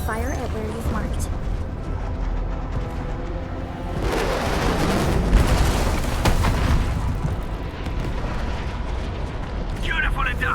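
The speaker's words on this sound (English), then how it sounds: "The UWST will fire at where you've marked." An artillery strike from the UWST in the game Arknights Endfield pounds a marked target with a sustained rumbling barrage of heavy booms, loudest in the middle, under continuous game sound and voices.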